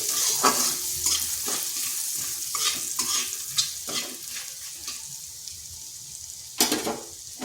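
Grated ginger and turmeric fry in oil under a steady sizzle, while a spoon repeatedly scrapes and taps the pan, with one sharp clank near the end and no one speaking.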